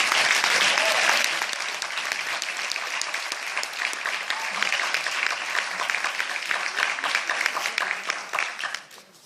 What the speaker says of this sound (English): give a round of applause to our parents and teachers